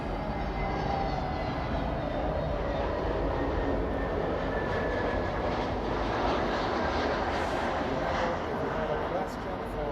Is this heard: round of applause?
no